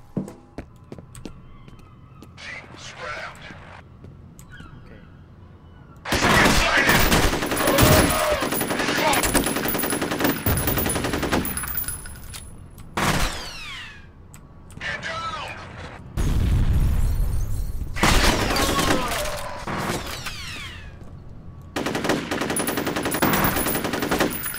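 Gunfire from the shooter video game F.E.A.R. roars in long, dense bursts of rapid shots and booming blasts, loud and close, separated by quieter gaps.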